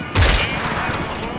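A burst of rifle fire at a long-range target, a sharp loud blast followed by a dense rumbling rattle that fades over about a second, close to the listener.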